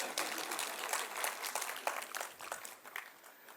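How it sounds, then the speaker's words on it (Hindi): Audience applause at a lecture gathering: a faint, distant patter of many hands clapping, fairly continuous and soft throughout. "तो उनके लिए तालियां बजा दो"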